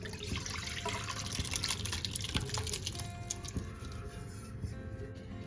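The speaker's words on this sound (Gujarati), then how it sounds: "ત્યાર પછી આપણે જે આ પાણીવાળા સાબુદાણા છે એ પાણી સાથે જ એડ કરી દઈશું।" Soaked sago pearls and their water are poured into a kadai on a gas stove, giving a soft, continuous wet splashing and trickling with a few small drips, close and fairly quiet.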